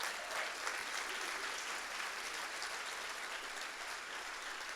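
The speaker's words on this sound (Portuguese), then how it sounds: "Aplauda o Senhor." Steady applause from a church congregation during a Portuguese-language sermon, a dense continuous wash of clapping heard at moderate distance and fairly quiet, with no talk over it.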